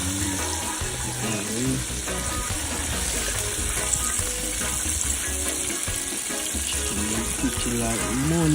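Chicken sizzles and fries steadily in a pan in a home kitchen, a constant crackling hiss with occasional stirring and a burst of running water, while people talk and laugh over it.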